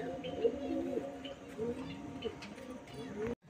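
Pigeons coo in low, throaty bursts around a loft, their repeated calls overlapping steadily throughout under some faint background voices, ending in a sudden cut.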